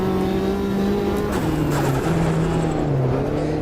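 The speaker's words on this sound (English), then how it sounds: "You hear the tyres scrubbing?" A race car in a sim racing video game holds a loud, steady engine drone whose pitch slides down and back, with tyres scrubbing and squealing faintly under it, close and continuous throughout.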